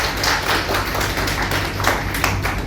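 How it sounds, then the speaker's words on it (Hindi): Applause from an audience at a school retirement ceremony, a steady dense patter of many hands clapping throughout with no talk over it. "क्लैपिंग करें बड़ी अच्छी तरीके से।"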